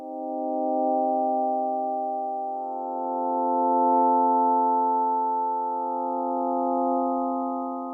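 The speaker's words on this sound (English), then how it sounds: "you use an oscillator here with a sine wave, it's gonna create that soft sound" A soft, smooth synthesizer pad built from a sine wave oscillator holds a sustained chord, gently swelling and fading in volume, steady and alone.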